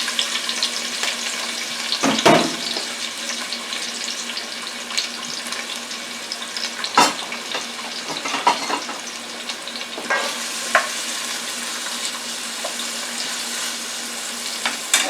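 Peppers fry in a frying pan with a steady close sizzle and crackle throughout, broken by a few sharp clatters of stirring or the pan being moved.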